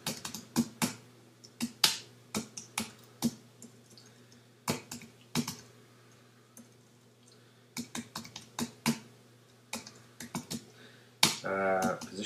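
Fingers typing code on a computer keyboard, short bursts of crisp key clicks separated by pauses, close and moderately loud, with no voices.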